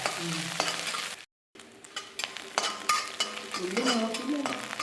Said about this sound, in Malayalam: ഉള്ളി നന്നായിട്ട് മൂത്തോട്ടെ അല്ലേ